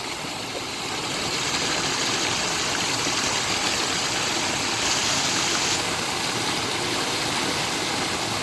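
Water gushes steadily from a newly fitted pump on a 7.5 motor at a farm, a strong continuous rushing flow with a low machine hum beneath, close and constant without speech.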